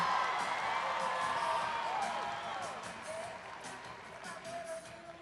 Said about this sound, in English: Cheer her on